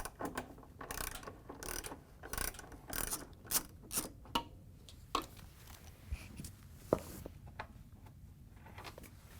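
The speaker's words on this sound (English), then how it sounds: "To get the back one off, we're going to use a 5/16 socket with a long extension." A ratchet with a 5/16 socket on a long extension works a screw loose on a Frigidaire/Electrolux washer rear outer tub, with irregular clicking bursts separated by pauses, fairly quiet and close.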